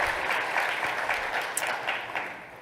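Conference audience applauding together, steady dense clapping with a few sharper individual claps standing out, sustained at moderate loudness.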